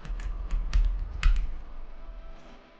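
Computer keyboard typing in a design app, a short cluster of light clicky keystrokes, about six taps in quick bursts, close and fairly quiet over a low hum, then fading.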